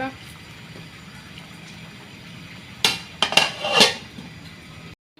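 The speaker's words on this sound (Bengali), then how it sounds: "এখন ঢাকনা দিয়ে রেখে দেবো মাংস" A metal lid goes down onto a pot of cooking meat, a short burst of clanks and rattles as it settles, loud and close against a quiet kitchen background.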